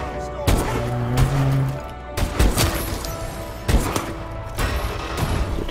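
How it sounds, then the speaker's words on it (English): Gunfire from the Call of Duty video game, several sharp bursts of shots spread across the moment, with game sounds and some voice-like murmur in between. "So two nice shots."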